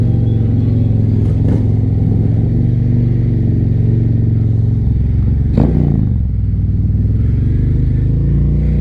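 Harley-Davidson motorcycle fitted with a 131 big-bore kit idling loud and close with a deep, lumpy rumble, broken by several sharp throttle blips and revs.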